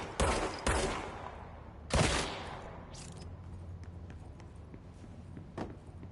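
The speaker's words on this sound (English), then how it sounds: "so I'm just going to shoot them all" Gunfire from the video game Control aimed at floating enemies: three or four loud, sharp shots in separate bursts, the first two close together, then a lone shot, with quieter clicks and faint shuffling steps between them.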